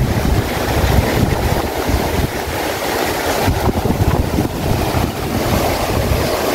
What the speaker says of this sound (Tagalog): Napakalakas talaga ng hangin.